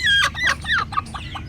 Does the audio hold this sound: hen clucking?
yes